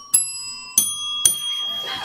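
Tuned hand bells are struck in order, giving three separate bright rings at different pitches, each sharp attack followed by a long shimmering decay, with a faint voice underneath near the end.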